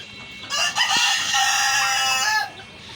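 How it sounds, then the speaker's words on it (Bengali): Rooster on a small farm crowing once, a loud, near, drawn-out harmonic call lasting about two seconds, with brief hen clucks just before it. "আর এরকম মুরগি পালবেন আমার মতো, মুরগিগুলা কি পালছে দেখছেন"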